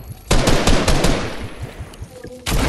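Fortnite gunfire: loud, close, rapid automatic bursts of shots that stop for a moment and then start again at the end.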